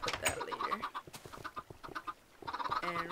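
Chickens clucking on a Minecraft chicken farm, a busy run of short overlapping clucks and squawks at close range, with no talk over them.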